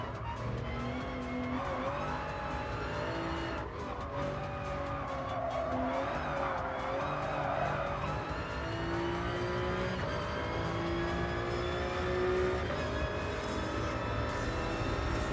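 Engine of a Toyota GR Supra Concept Group 3 race car in Gran Turismo Sport, a loud continuous rev with shifting pitch and tire squeal through corners, steady and close throughout.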